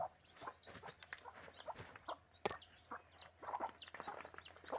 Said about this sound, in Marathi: आमच्याकडे ना भरपूर कोंबड्या आहेत गावरान कोंबड्या.